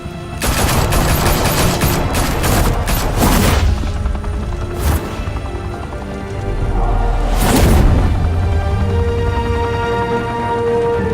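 Gunfire in a Batman video game, with bursts of rapid automatic fire and heavier booming shots over a dense battle din, loud and close, continuing for several seconds without talking.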